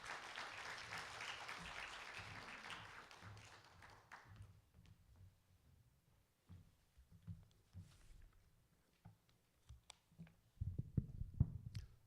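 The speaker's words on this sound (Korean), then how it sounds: "큰 박수로 맞이해 주시기 바랍니다" Audience applause at a university student supporters' launch ceremony in Gangwon Province, welcoming the provincial vice governor. Moderate clapping fills the first four seconds and then fades into scattered taps, shuffles and footsteps in a quiet hall.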